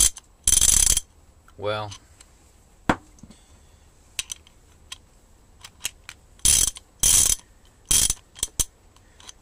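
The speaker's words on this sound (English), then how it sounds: "So a bit of oil on that ratchet and it should be fine, quieten down a little bit more." A Bergen half-inch drive ratchet ratchets close up in loud, separate bursts of dry clicking with pauses between them. A brief spoken word comes in near the start.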